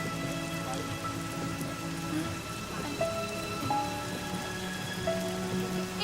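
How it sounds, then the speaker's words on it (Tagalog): Heavy rain pours down steadily on surfaces outdoors, a dense continuous hiss with scattered drops, heard alone and fairly quiet with faint tonal background hum. "ang lakas-lakas na ng ulan, oh."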